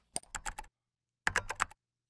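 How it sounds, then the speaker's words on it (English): Two quick bursts of typing on a computer keyboard, a handful of crisp clacks each, close by with a pause between. "What is he typing?"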